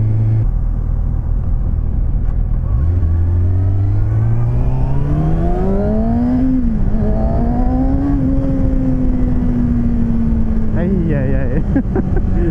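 A Kawasaki Ninja ZX-6R 636 motorcycle engine revs up and shifts through gears on a ride, a loud steady rising whine with wind rumble, while someone talks over it.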